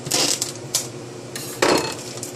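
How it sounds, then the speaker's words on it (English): A knife cuts open a bag of powdered sugar, giving loud, close crinkling and scraping bursts of plastic with a couple of sharp clacks and no voices. "Let me use this knife to cut this bag."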